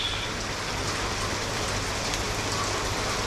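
Monsoon rain in Thailand drumming on a shed roof at a fishing resort, a dense, even hiss of drops that holds steady and loud throughout.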